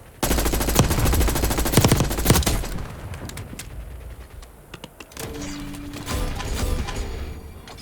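Rapid automatic gunfire from a gun in Black Ops 6, loud and continuous bursts for a few seconds, then thinner scattered shots and faint background noise.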